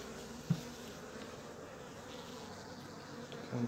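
Bees buzz around a terrace with neon lights, a faint continuous insect drone at a distance with a small knock early on, no voices.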